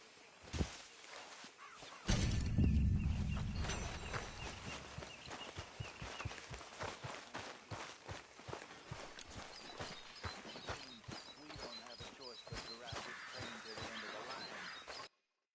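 Horses' hooves clip-clop in a steady, repeated rhythm at moderate distance, starting after a brief burst of louder noise and continuing under quiet dialogue, with faint birdsong in the background.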